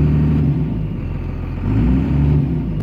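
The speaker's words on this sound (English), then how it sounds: "Rev it up, of course it goes down." A Cummins second-generation diesel pickup truck engine idling roughly and being revved after an adjustment, a steady low rumble that swells twice, loud and close, with no talk.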